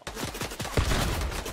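Gunfire in a video game, a quick burst of several rapid close shots followed by a heavier blast, all brief and moderately loud.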